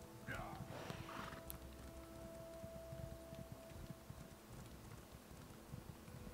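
Hoofbeats of a horse galloping at full pace in Elder Scrolls Online thud in a fast, steady rhythm under faint game ambience, quiet and continuous.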